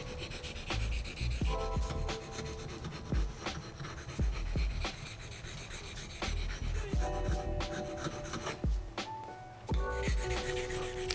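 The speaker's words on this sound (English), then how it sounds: "I just sharpen them until you raise a burr on the other side" Pruning shears are sharpened by hand, the blade drawn against a file or stone. Short rasping strokes repeat in an uneven rhythm, close and fairly quiet, with no talking.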